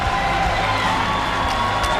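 Pro-Augustana crowd cheering at an NSIC tournament basketball game, a steady, dense roar of voices with scattered whoops running unbroken throughout.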